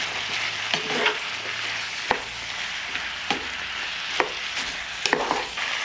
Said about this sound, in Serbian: Sve ću sad ovo promešati i nastaviti dalje da prži.